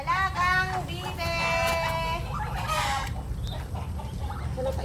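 Pet ducks at feeding time, a busy run of nasal quacks and clucky calls close by over steady low background rumble, with people talking faintly now and then.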